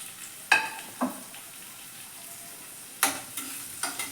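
Chopped ginger dropped into hot oil in a pan for baby corn Manchurian, giving a few sharp sizzling bursts that fade between quieter stretches of low frying hiss, close and fairly soft.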